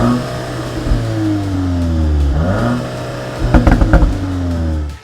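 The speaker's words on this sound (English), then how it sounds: "the CUPRA Formentor is also equipped with a quad sports exhaust system, which not only looks good, but sounds great as well" CUPRA Formentor with a quad sports exhaust system, top-of-range engine, revving close by: a steady mid-pitched drone that dips and climbs again, followed by a burst of sharp throttle blips near the end.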